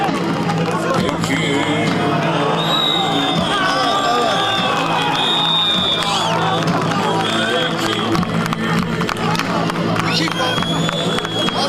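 A dense crowd at an outdoor oil wrestling event claps and cheers continuously, loud and close, with an announcer's amplified voice and babble running over the applause throughout.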